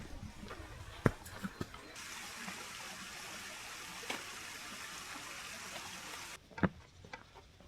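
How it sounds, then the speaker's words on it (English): A cold stream flows along a hiking trail in Vienna, a steady close rushing of water with a few handling knocks, cutting off abruptly near the end. "I can actually like walk down to the stream itself."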